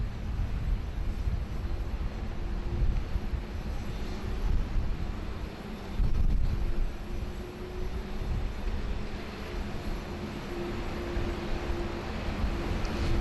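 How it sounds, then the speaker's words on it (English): An aircraft auxiliary power unit runs steadily at Sydney Airport, a constant droning whine with a sustained tone over low rumble, moderately distant and unbroken, with no talk. "the APU has been fired up"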